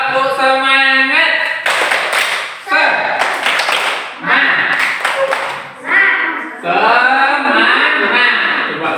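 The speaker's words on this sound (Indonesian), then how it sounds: "Kita tepuk semangat dulu." A school class chants and claps together in a rhythmic spirit clap (tepuk semangat), with loud bursts of clapping between their shouted words in a classroom.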